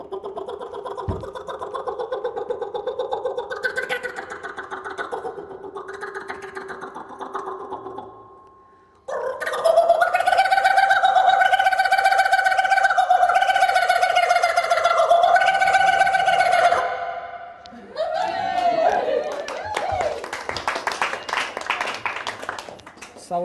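A human voice imitates a kookaburra call, rising into long, loud, warbling cackles that stop and start, with clapping or a crowd response toward the end.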